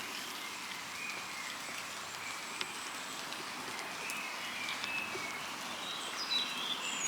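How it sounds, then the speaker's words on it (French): Birds sing and chirp in an overgrown abandoned site thick with greenery, scattered high calls over a steady faint outdoor hiss, with no talking. "J'espère que vous entendez les oiseaux."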